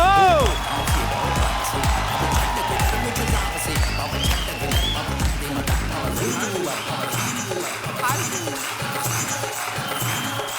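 A studio audience on a Hindi TV comedy talk show claps and cheers in a steady, dense wash of applause that gradually thins out toward the end.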